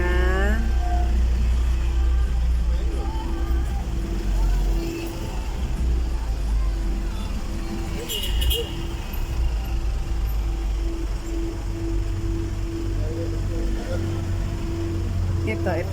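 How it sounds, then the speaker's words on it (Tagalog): Street traffic of jeepneys, minibuses and taxis in the Philippines, with engines idling and revving close by, a steady rumble that carries on throughout, and people talking over it. "Ito jeep, minibus,"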